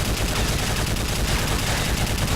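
Relentless gunfire in Call of Duty: Modern Warfare 3, a loud, continuous barrage of rapid automatic shots with no break, filling the whole couple of seconds.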